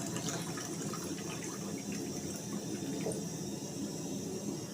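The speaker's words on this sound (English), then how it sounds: "Add water." Water poured into a cooking pot on a home stove while preparing tea for breakfast, a steady faint trickling and splashing that continues evenly throughout with no talking.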